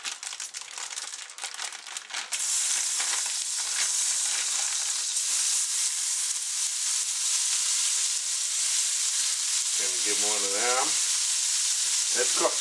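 Udon noodles sizzle loudly in hot butter or margarine in a pan, a dense steady frying hiss with scraping, crinkling stir sounds and a few brief voice fragments near the end.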